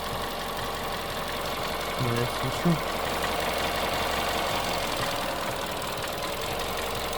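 An Opel Corsa engine idles unevenly with a low, steady drone and a couple of faint knocks partway through, heard at moderate distance with muffled voices in the background.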